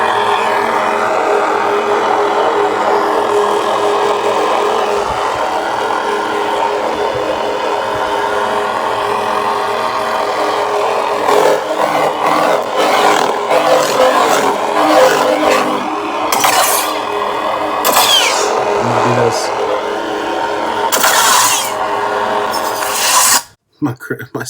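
A part is cut out during a scrap rebuild with a continuous rasping, scraping tool sound that grows choppier and more uneven toward the end before stopping abruptly.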